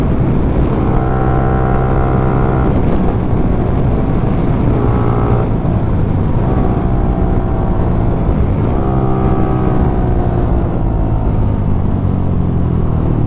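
A modified exhaust on a Yamaha R15 V4 motorcycle revs loudly and steadily, rising and falling in pitch through repeated downshifts with no talking.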